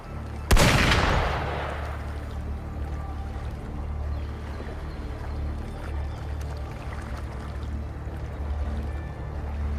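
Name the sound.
gunfire in video game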